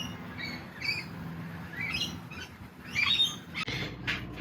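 Birds in a Perth garden call and squawk in scattered, fairly faint chirps against outdoor background noise, with no one talking.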